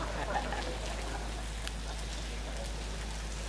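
Steady rain falls during an outdoor dress rehearsal for a dance-drama festival, a continuous soft hiss with scattered drop ticks that stays even and moderately faint throughout, with no clear speech.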